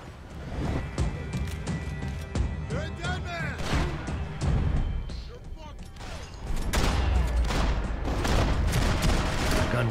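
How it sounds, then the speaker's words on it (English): Dense bursts of gunfire in Max Payne 3, shots and heavy booms layered over loud game music and effects, continuous and intense throughout with a brief lull mid-way. "gunfire over Hoboken"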